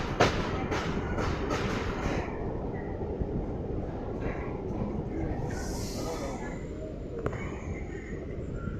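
An MGR Chennai Central MEMU Express train rumbles into Venkatachalam station, a dense near rolling roar with a few clicks and a faint hiss, while people talk nearby.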